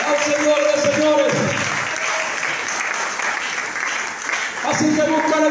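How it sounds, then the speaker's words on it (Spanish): Loud, continuous applause fills a church as the congregation claps for the King of Kings, a thick crowd patter holding steady throughout, with voices rising over it near the start and end. "Denle un fuerte aplauso al Rey de Reyes"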